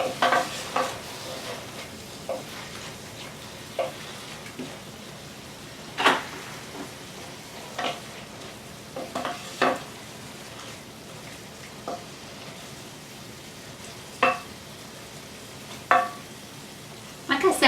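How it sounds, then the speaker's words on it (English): Sherry sizzles and bubbles in a pan as it cooks off for mushroom soup, a soft steady frying hiss broken by scattered clicks and scrapes of stirring, fairly quiet and close. "so we add the sherry, and then we want to give that a minute to actually evaporate"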